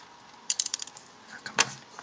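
A screw being backed out during a repair, a quick run of close ratcheting clicks from a screwdriver followed by a brief scrape, with no talking.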